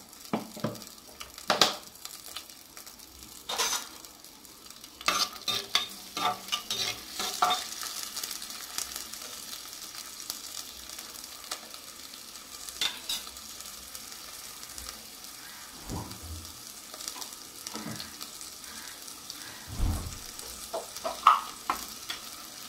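Chopped shallots fry and sizzle in hot oil for a Kerala dried-fish and plantain curry, stirred in the pan with repeated scraping strokes and louder clatter toward the end; no one speaks.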